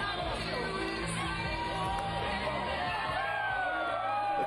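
Wrestling arena crowd cheering for the Von Erichs, a steady wash of cheers, whoops and shouts with a continuous dense roar from a large audience, no single voice standing out.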